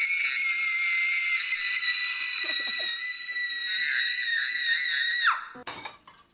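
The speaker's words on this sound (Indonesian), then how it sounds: "Esther sangat marah dan berteriak tidak karuan" A girl screams wildly in anger, a shrill sustained cry from the film Orphan held for about five seconds before breaking off, followed by a sharp crash-like burst and fading noise.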